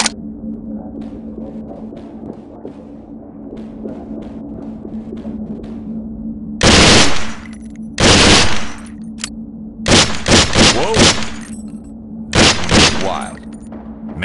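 Weapon fire in the SWAT 4 video game at a training range: several loud bursts of close gunfire in clusters over a low steady hum, with quiet gaps between volleys.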